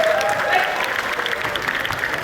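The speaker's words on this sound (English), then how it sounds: "Give yourself a round of applause." Applause from participants in an outdoor Indian dance tutorial at the Esplanade, a dense, steady clatter of many hands clapping throughout, close and loud, with a faint voice briefly underneath.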